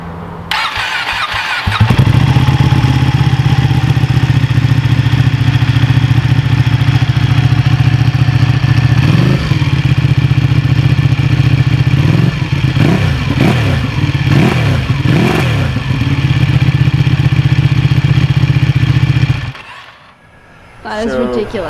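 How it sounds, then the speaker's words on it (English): A Ducati Panigale superbike engine runs steadily after start-up, a loud, close, deep idle with a strong low throb and a few blips of revving midway, then it cuts off near the end. "A lot of the times, the sound of the Ducati doesn't really come through on the microphones."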